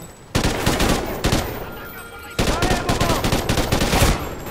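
Rapid automatic gunfire in Call of Duty Ghosts comes in two loud bursts with a brief pause between them, and a player's voice can be heard faintly underneath.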